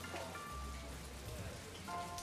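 Rain falls steadily in a continuous soft patter and hiss, with a low rumble underneath, while people talk quietly over it.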